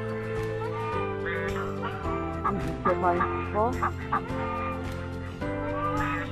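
Young crested ducks, with older ones nearby in a late brood, call in a steady run of nasal quacks and peeps close by, while a person talks over them.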